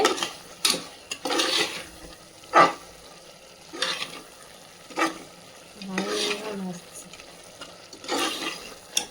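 Chicken biryani masala sautéing in oil, with repeated sizzling bursts and spoon scrapes as it is stirred in the pan, close and fairly loud.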